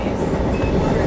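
Steady rumble of an electric commuter train riding through forest on the way to Chicago, a continuous close interior drone with faint rail rhythm and no voices.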